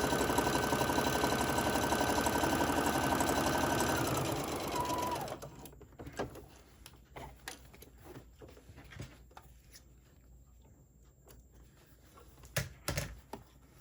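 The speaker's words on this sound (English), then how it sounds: "Go ahead and stitch across the bottom to leave my opening for turning." Sewing machine stitching across the bottom of a drawstring Santa bag, a steady close mechanical whir for about five seconds that then stops, leaving faint handling clicks and taps.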